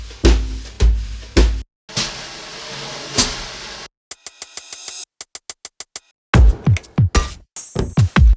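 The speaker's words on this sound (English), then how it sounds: "loops" Sampled drum loops play back to back in short bursts: punchy kicks and snares, a tight rhythmic run of clipped clicks, sparse staccato hits, then fuller beats, loud and close with no talk.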